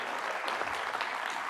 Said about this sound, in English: can I have just a round of applause for all the speakers